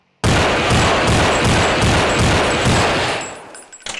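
Gunfire from a rifle in the video game Counter-Strike: loud, close shots follow each other in a quick, regular rhythm, then the firing stops and trails off into brief quieter clatter.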